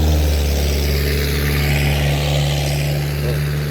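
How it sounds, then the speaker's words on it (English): A loud, rumbly vehicle exhaust drones steadily close by, with a deep low-pitched hum holding throughout and no talking. "somebody needs to work on their exhaust."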